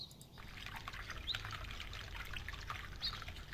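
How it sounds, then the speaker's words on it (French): Steady shower water pours and trickles in a Roblox roleplay house bathroom, a continuous hiss at moderate level with faint chirpy game tones layered over it. "Attendez, je prends une douche."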